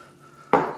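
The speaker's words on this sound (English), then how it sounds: "We are going to add 1 cup of water," A cup of water poured over cut jalapeños in a kitchen container lands as a sudden splash and brief rush after a quiet start, fairly close and alone.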